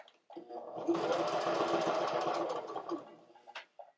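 Sewing machine stitching upholstery fabric for an ottoman reupholstery, a close, fast mechanical whirring run of about three seconds that starts and stops abruptly, with a short extra burst at the end.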